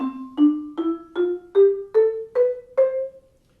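Eight short vibraphone notes, played with the pedal up and dampened, rise step by step in an even rhythm, each cut off quickly with little ring.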